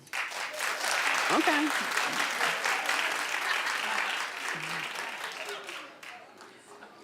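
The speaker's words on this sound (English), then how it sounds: "clap if you sleep in a bonnet." Studio audience applauding on a daytime talk show, a dense steady clatter of many hands that swells and then fades near the end, with a brief voice speaking over it early on.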